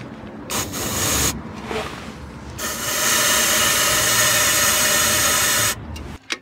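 A motorcycle engine revved in a workshop after front-end parts are refitted: a loud, rough, sustained roar that eases briefly, then climbs and holds steady before cutting off near the end.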